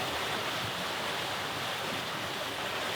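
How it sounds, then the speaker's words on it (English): Steady broadband wind and wave wash aboard a sailboat beating upwind in about 10 knots of breeze, a continuous close rushing roar with wind buffeting the microphone and no talk. "We're sailing upwind again."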